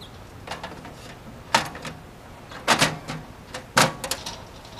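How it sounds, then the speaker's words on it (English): An RV's Girard tankless water heater access door being fitted back into place, heard as three sharp plastic-and-metal knocks and rattles spread across a few seconds, close and moderately loud over a quiet background. "Now we can put the door back on."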